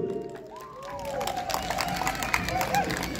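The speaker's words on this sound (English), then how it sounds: "a round of applause to our delegates from the municipality of Bacon" Crowd applause and cheering for municipal delegates at the Adivay Festival in Edmonton, sustained clapping with hubbub and excited voices, while a person speaks over it through a reverberant hall.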